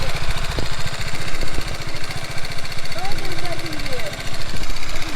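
Motorcycle engine running at low speed during slow-speed riding practice, a steady mid-pitched drone throughout with a voice speaking over it.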